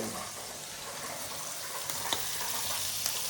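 Prawns fry in a pan with a constant, dense sizzle that holds steady throughout. A couple of faint clicks break through, and no one speaks.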